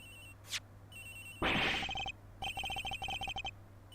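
In the Miles Edgeworth Investigations game, the victim Higgs' mobile phone rings from somewhere unseen. It gives quick, repeating electronic trills in short bursts, with a brief rushing noise partway through, and nobody speaks.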